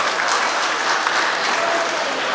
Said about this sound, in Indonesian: Tepuk tangan untuk UMKM.